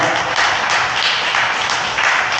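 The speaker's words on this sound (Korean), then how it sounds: "살아계신 하나님께 영광의 박수" A steady burst of loud applause from a youth retreat congregation at a 2023 testimony service, dense clapping giving glory to God, continuous and close for a couple of seconds.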